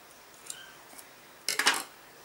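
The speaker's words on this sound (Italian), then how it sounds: "Con le forbici tagliamo" Scissors snip across the center of paper kitchen cupcake liners, a few close, crisp cutting bursts after faint rustles, with no talking.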